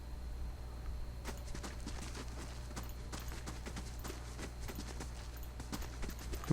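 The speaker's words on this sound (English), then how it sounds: "Ooh, horses." Horses walk past in the video game Pillars of Eternity 2, a string of crisp hoof clip-clops starting after a moment and continuing evenly over a low ambient hum.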